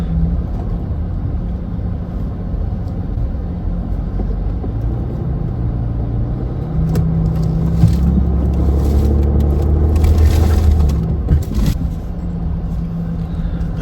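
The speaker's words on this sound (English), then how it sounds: "there was no slipping of the wheels as I backed up that icy and snowy bank" A Land Rover Discovery 5 reverses slowly up a steep icy, snowy bank, its engine producing a low continuous rumble that swells into a heavier drone partway through, heard from inside the cabin.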